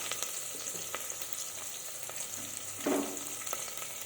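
Curry leaves and crushed garlic frying in oil, a quiet steady sizzle with a brief louder burst of crackling near the end, no voices.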